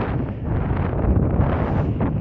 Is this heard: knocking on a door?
no